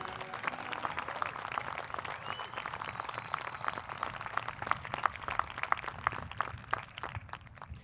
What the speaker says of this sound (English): Let's have a big round of applause for all of the graduate students who have graduated today